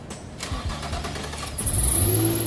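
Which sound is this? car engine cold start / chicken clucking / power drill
car engine cold start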